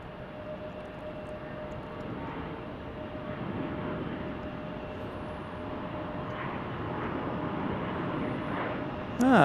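CRJ 900 airliner at Salt Lake City airport, a steady broadband jet engine roar that holds fairly loud throughout and swells slightly toward the end.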